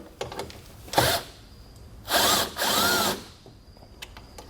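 A power drill whirs in three short bursts while backing out headlight fasteners on a 2020 Chevrolet Equinox during a base plate installation. The first burst is brief and the next two are longer and back to back, close and loud, with faint clicks between them.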